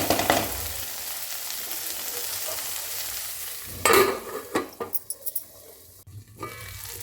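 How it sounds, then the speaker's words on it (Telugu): Food frying in a pan with a steady hiss at first, then louder scraping and clattering bursts as it is stirred, before fading out. "కొంచెం వేగేయండి, మరి కాసేపు వేగనివ్వాలి"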